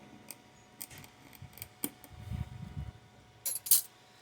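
A blade scores a sheet for a DIY sci-fi screen, with soft scraping strokes and light clicks, then two sharp, bright bursts near the end, close and fairly quiet with no talking.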